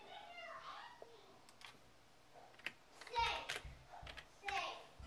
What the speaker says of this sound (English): You just type in the new password.